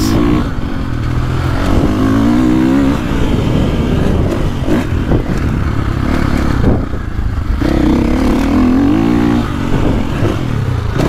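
A 2024.5 KTM 450 Factory Edition motocross bike being ridden, its engine loud and close throughout with rising and falling revs and throttle surges, plus some mechanical clatter, and no voices.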